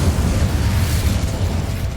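Incendio fire spell cast in the wizarding action game Hogwarts Legacy, a dense low roaring burst of flame that stays loud and steady for its whole length.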